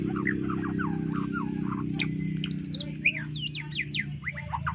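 A trucuk bird, also called krocok or berbah, chirps and whistles in quick varied phrases, fairly near and clear, over a steady low background hum.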